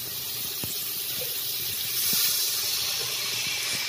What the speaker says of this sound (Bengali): এতে মধ্যে গরম জল দেব